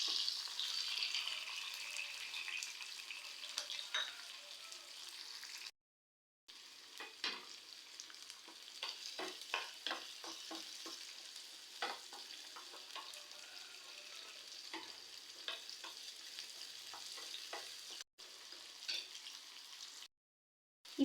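Garlic and small shallots fry and get stirred in a pan for a Tamil green moong dal curry, giving a steady close sizzle with repeated spatula scrapes and a few brief silent gaps.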